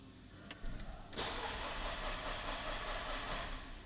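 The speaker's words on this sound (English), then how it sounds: "I'll turn it on with the starter." A Škoda Octavia 2.0 FSI with faulty ignition coils and fouled spark plugs on the second and third cylinders is cranked on the starter. A couple of faint clicks lead into a sustained, rough whirring, quiet and without speech.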